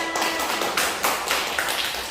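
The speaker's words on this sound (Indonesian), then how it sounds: "Berikan tepuk tangan" Applause from an audience at a public speaking class at a migrant training centre in Hong Kong, a steady dense patter of many hands with a few louder surges, no talking over it.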